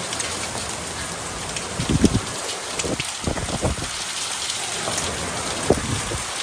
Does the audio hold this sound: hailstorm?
yes